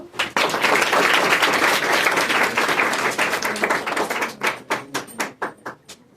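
A group of people at Sonbhandar in Rajgir claps in a dense, loud burst that thins into a few slower, separate claps before stopping.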